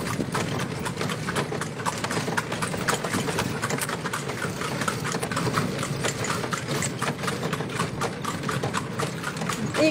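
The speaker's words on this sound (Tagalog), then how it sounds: "Takatak, sabi ng kabayo." A horse pulling a kalesa carriage through the streets of Vigan, Ilocos Sur, its hooves clip-clopping in a steady, continuous rhythm close by, mixed with street noise and a passing engine.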